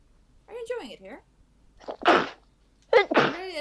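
Three loud, close sneezes burst out in quick succession from a person at a tabletop dice game session, each a sharp explosive blast separated by brief silence.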